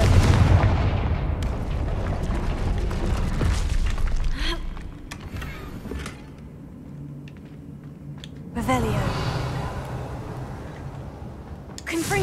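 Confringo blasting spells erupt in the Hogwarts Legacy game as a run of loud, punchy explosive bursts with rumbling tails, dense at the start and again near the end, mixed with game effects.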